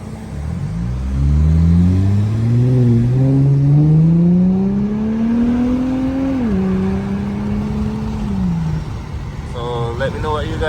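Car exhaust revving up, pitch rising steadily for several seconds then dropping off, loud and close.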